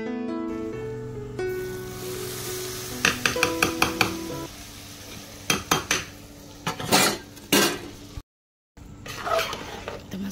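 Cashews, almonds and raisins are fried for a tadka on carrot halwa. Metal utensils clink and scrape against a pan in sharp bursts over a faint sizzle, with a brief silent gap near the end.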